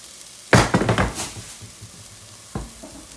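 Ingredients for lentil soup are stirred in a pan, giving a loud scraping, sizzling burst followed by softer clatter and a second short stir a moment later.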